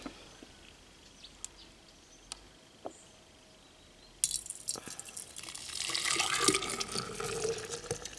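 Liquid is poured into a machine while it is being cleaned. A few faint clicks and taps come first, then a steady, fairly close splashing pour runs through the second half and grows fuller toward the end.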